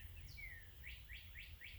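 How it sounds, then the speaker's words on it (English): Several bird chirps in quick succession before sunrise in Nebraska in spring, thin and rising, repeating about every quarter second over a low, steady background hum. "The birds are all talking."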